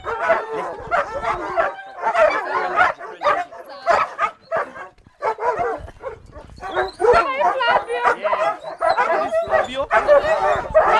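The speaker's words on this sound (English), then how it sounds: "I'm going to release our black shepherd." Black German shepherd sniffer dog giving repeated yips and barks in an uneven rhythm, mixed with a person talking.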